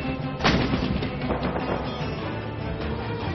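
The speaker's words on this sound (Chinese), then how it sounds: "随着隆隆炮声响起" Artillery cannon fire from a field artillery regiment's live-fire training, a loud broadband boom near the half-second mark followed by rolling rumble and further thumps that fill the rest of the clip.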